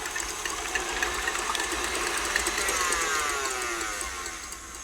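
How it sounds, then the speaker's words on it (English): Electric mixer whirring steadily as it beats egg whites in a bowl, a continuous high-pitched buzzing hum that stays close and even for the whole stretch with no talking. "Now I'm going to beat these until they're nice and frothy."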